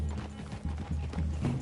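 Horse hooves clip-clop steadily in Red Dead Redemption 2, a rhythmic close trot over a low rumbling game ambience.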